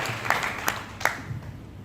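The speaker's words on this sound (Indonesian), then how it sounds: "tepuk tangan untuk Anda sendiri" A church congregation at a Wednesday morning service claps for itself: brief, fairly soft applause with a few sharper claps standing out.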